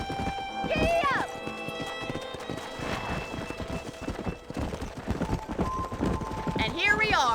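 Horse hooves galloping in the video game Red Dead Redemption, a fast rhythmic clip-clop close by with whinnies at the start and end and voices speaking over the ride.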